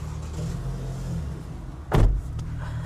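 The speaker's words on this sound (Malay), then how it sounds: "Okey, saya start kereta." A Toyota Alphard 2.5Z engine turns over and catches with a brief loud surge, then settles into a low, steady idle hum heard from close by.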